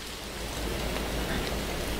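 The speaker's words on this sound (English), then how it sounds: "And since it's raining like this" Steady rain falls in the video game Fuukan no Grasesta, a continuous even hiss of drops with a low rumble underneath and no voices.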